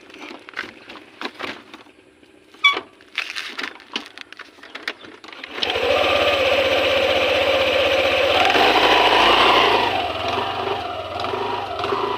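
A Yamaha NMAX scooter engine starts up and runs steadily with a strong vibrating drone. Before it, there are a few knocks and handling sounds. The engine stays loud and close for the rest of the clip.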